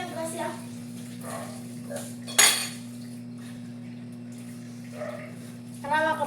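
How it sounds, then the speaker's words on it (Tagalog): Dishes and cutlery clink and clatter during washing, with a loud clatter midway, under a steady electrical hum while people talk in the background. "Nang hugas na si Kuya Melvin."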